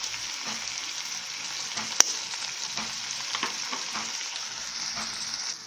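Water spinach sautéing with a little black pepper in a pan, a steady hiss of sizzling oil with soft stirring scrapes throughout and one sharp click near the middle.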